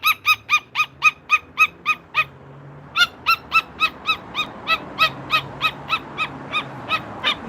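A Moluccan cockatoo lets out a rapid run of loud, harsh squawks in a steady pulsing rhythm, briefly pausing before resuming, close and dominant over faint background noise.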